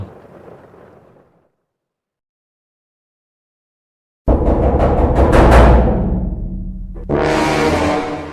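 After a faint start and a few seconds of silence, heavy booming rumbles of thunder break out, then a second loud roll.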